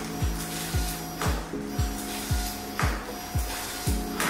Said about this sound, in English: the printer will continue printing.